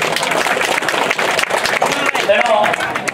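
An audience at a cricket post-match presentation in Talcher claps steadily throughout, a broad patter of many hands, while someone speaks over a loudspeaker.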